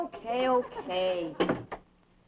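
A back door handled as someone walks out, a quick pair of knocking clunks right after a man's speech, close and fairly loud, then quiet.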